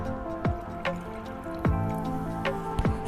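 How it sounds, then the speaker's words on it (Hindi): A cup of water is poured into milk in a cooking pot for coconut kheer, producing close, irregular splashy drips and glugs over a continuous liquid trickle, with no speech. "1 कप पानी ऐड कर देंगे इसी बर्तन से जिससे हमने दूध डाला था।"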